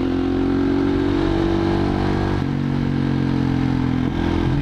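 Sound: Husqvarna SM610 motorcycle engine revving

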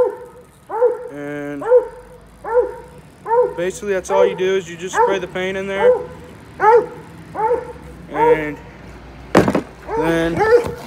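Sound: dog barking

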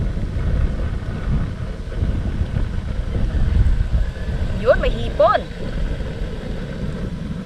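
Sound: strong wind

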